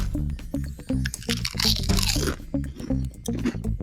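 Crisps (potato chips) being crunched and chewed up close, a quick series of sharp, loud crunches in an uneven rhythm, with a voice humming or murmuring underneath.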